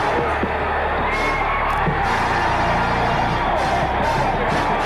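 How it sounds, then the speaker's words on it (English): A basketball arena crowd roars and cheers wildly for Pete Maravich, a dense, loud, sustained wall of voices with whoops rising through it. "And the crowd is going wild here at the Super"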